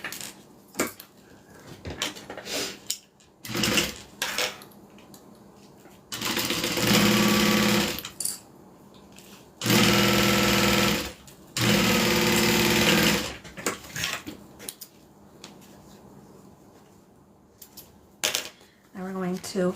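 Sewing machine stitching just under a first stitch line on a custom piece, three loud sustained bursts of rapid motor whir separated by pauses with softer handling clatter and a voice talking in between.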